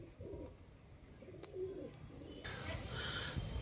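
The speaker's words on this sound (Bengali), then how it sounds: "অসাধারণ কবুতর, সিঙ্গেল পিচ নর" A single-pitch male pigeon of a show-and-flying breed coos softly in a loft, low murmuring calls repeating under a steady background hum, with brighter bird chirps joining near the end.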